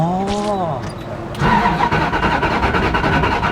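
A car engine cranks and catches, giving a whining starter and then a rough, loud idle close by, after a voice briefly speaks.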